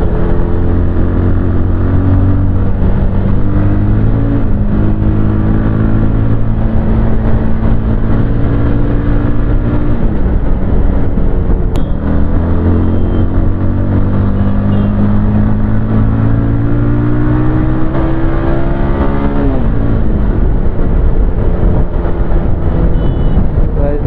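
A Bajaj Pulsar 220 motorcycle cruises on a highway, its loud, steady engine drone rising and falling with gear changes and throttle shifts over constant wind rush.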